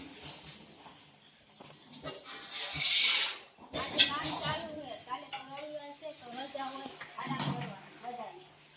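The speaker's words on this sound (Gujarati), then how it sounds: "દરરોજની જેમ ભૂંગરા તળવાનું ચાલુ કરી દીધું છે" Bhungla snack pipes fry in hot oil in a Gujarati home kitchen, a soft hissing sizzle that swells briefly near the middle and sits under steady talk for most of the clip.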